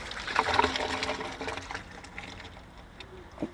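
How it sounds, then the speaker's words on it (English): Water draining from a camper van's tank, a steady splashing trickle that is strongest at first and then gradually tapers off, fairly close. "First, we're going to let the water out of here."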